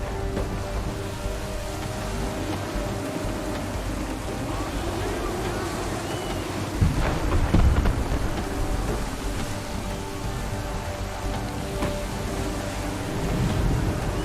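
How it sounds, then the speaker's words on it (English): Stormy sea ambience in Assassin's Creed 3: steady rain and wind over waves around a sailing ship, with a deep thunder rumble swelling near the middle before the roar settles back. "There's a storm coming"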